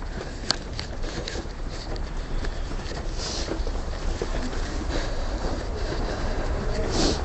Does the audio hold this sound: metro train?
yes